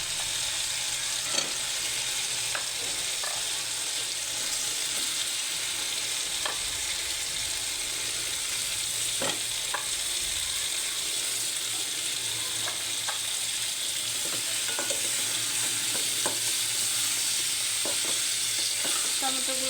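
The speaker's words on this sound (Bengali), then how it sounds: "টমেটোগুলো আমি ভালোভাবে কষিয়ে নেব" Tomatoes sauté in a spiced masala in a pan, with a dense, even sizzle running throughout and stirring scrapes and taps every few seconds, heard up close with no speech.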